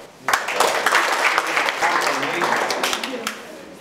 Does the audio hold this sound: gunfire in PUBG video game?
no